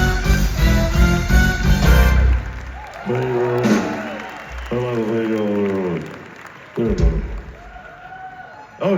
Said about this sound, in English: Let's give a massive applause to my brother and your friend